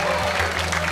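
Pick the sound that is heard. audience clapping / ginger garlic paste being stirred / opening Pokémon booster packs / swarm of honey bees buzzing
audience clapping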